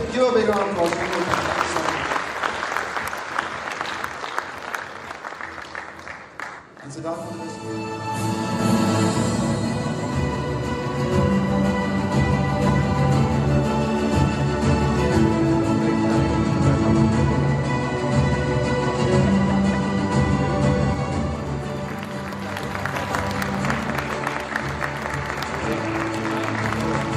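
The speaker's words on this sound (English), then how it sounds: "Give a big round of applause." An audience claps at an award announcement naming startup accelerator cohort winners. The brief applause is followed by loud music that swells and carries on to the end.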